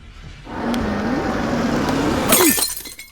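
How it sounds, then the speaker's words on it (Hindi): A car window's glass is smashed in a single loud shattering crash, preceded by a sustained noisy rush and followed by tinkling debris, with no speech. "तूने मेरी गाड़ी का शीशा क्यों तोड़ा?"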